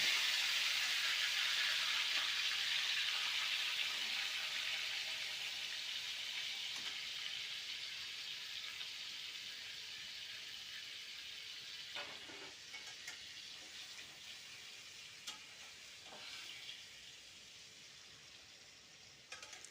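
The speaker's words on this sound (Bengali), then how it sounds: "পুরো মাংসটাকে আস্তে আস্তে ঢেলে দিচ্ছি" Marinated chicken for a coriander-spinach curry is poured slowly into a hot pan with a little oil, setting off a loud, steady sizzling hiss that gradually softens over medium heat, with a few faint stirring knocks.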